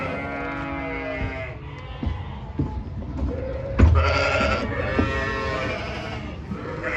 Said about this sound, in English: take you guys into the barn, show you some of the sheep and their lambs